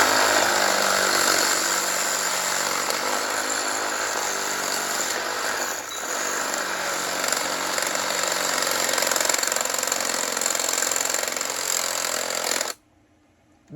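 A power tool cuts through copper radiator ends held in a vise, a loud, continuous harsh grinding whine that runs for about twelve seconds before stopping abruptly.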